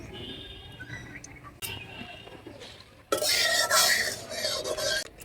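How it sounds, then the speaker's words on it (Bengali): Potatoes frying lightly in a pan, with quiet stirring and utensil clinks at first, then a louder, dense sizzle that swells up and holds to the end, with no talking. "হালকা করে আলুগুলো ভেজে নেব"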